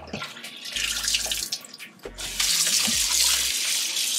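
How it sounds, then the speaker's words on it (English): Tap water runs steadily into a kitchen sink while defrosted shrimp are rinsed of vinegar, a continuous splashing hiss that changes as the stream hits the food, with a brief break partway through. "So I'm just going to rinse off the vinegar."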